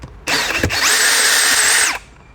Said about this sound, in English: now we have to unscrew just 3 bolts. Use a screwdriver